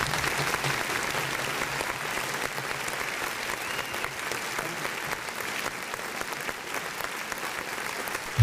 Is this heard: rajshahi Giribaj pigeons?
no